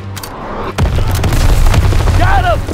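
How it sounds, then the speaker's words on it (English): A grenade explodes in a Call of Duty WWII campaign battle, a sudden loud boom followed by a rumbling tail and scattered gunfire, with voices in the mix. "Throw the grenade."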